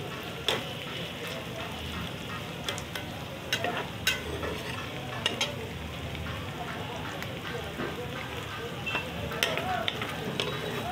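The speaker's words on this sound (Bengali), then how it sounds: "একটু ভেজে নেব, দিতে পারেন শুধু পেঁয়াজ" Onions and fenugreek seeds fry in oil in a pan as the base for a pabda fish curry, giving a steady close sizzle with scattered small pops and crackles and no clear speech.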